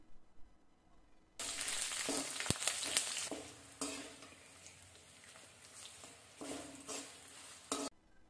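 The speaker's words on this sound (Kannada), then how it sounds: "ಬೆಳ್ಳುಳ್ಳಿ ಎಲ್ಲ ಚೆನ್ನಾಗಿ ಕೆಂಪಗಾಗಿ ಆಗಬೇಕು ಅಲ್ಲಿ ತನಕ ಇದನ್ನ ಫ್ರೈ ಮಾಡ್ಕೊಳ್ಳಿ ಮೀಡಿಯಂ ಉರಿನಲ್ಲಿ ಫ್ರೈ ಮಾಡ್ಕೊಳ್ತಾ ಇದ್ದೀನಿ" Crushed garlic frying on a medium flame in a pan, a sudden burst of dense sizzling that settles into a steady crackle with occasional spoon scrapes and stirs, close and alone.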